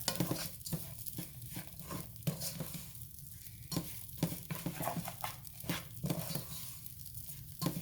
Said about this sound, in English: Just keep stirring it around.